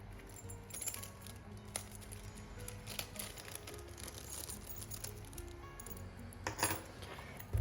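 Small metal zipper pull and zipper end on a sewn wristlet clinking and jangling in the hands, a series of faint close taps and rattles with a couple of sharper clinks near the end.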